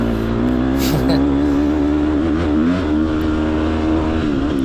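An off-road race vehicle engine accelerating hard along a straight at the TX2 finale, a loud, sustained close-up drone that climbs in pitch as it revs, with wind and vehicle rumble underneath.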